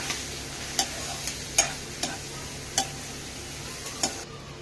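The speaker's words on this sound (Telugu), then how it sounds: "ముందుగానే క్లీన్ చేసి పెట్టుకున్న ప్రాన్స్ని వేసుకొని ఫ్రై చేసుకోవాలి" Cleaned prawns fry gently in a pan for an egg and prawn curry, a soft steady sizzle broken by evenly spaced light taps and scrapes of a stirring spatula, no talking.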